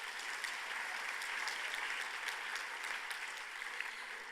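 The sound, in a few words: audience applause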